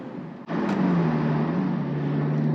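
A Lotus Elise Sport 220 British sports car engine surges suddenly into a loud, steady, close-up roar that is sustained under acceleration, with a clear rising engine tone and no talk.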